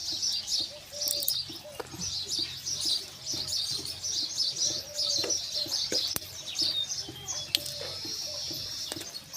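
Pigeons scattered over fed grain coo repeatedly, with soft low calls alongside brighter chirps and occasional wing flutters, fairly close and continuous.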